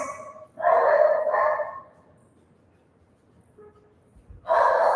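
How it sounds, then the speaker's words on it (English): A pet dog barks in the background indoors, two quick bursts of barking, then a pause, then another bark near the end, fairly clear and mid-distance. "Apologize for my dog barking in the background."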